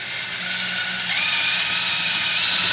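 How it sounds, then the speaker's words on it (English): A hole saw bores straight down through a floor beside a plumbing pipe, giving a close, loud, steady grinding whir that rises in pitch partway through the cut. "So now we can just come here and drill a hole straight down through the floor."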